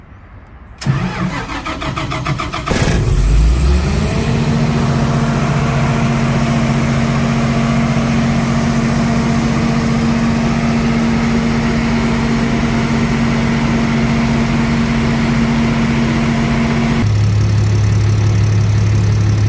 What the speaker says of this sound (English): start the panel that will allow us to start the generator. Want to hear a run?